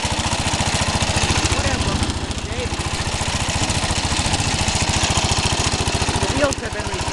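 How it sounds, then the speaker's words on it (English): A 1968 Cub Cadet garden tractor engine runs steadily up close with a fast, even pulse and a rattling, loose hood buzzing over it, while a person talks briefly over the noise. "Like I say, it runs good. All that rattling is just the hood, it's a little loose."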